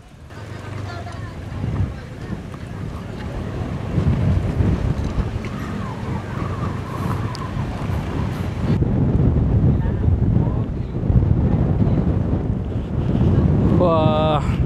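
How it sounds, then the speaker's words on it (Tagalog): Strong wind gusts roar and buffet the microphone continuously at a hilltop view deck over Pantabangan Dam, Philippines, with a low rumble throughout and the blustery noise growing heavier partway through. "Lakas ng hangin"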